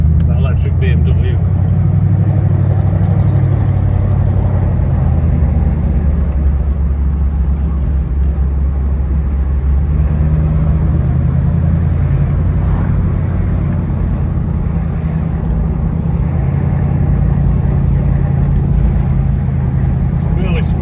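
A BMW car drives with its engine running in a steady, loud, continuous low rumble and road roar throughout, with no pauses.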